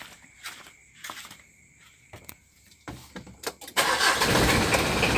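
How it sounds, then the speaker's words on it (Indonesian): A car engine is cranked by the starter in a few short bursts with clicks, then catches and settles into a loud, steady idle close by. "Oke, kita hidupkan mesinnya."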